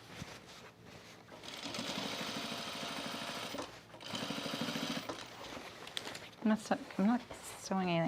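A sewing machine stitching the waistband of jean shorts, running in steady close bursts of rapid rhythmic clatter with a short pause, followed by a person talking near the end.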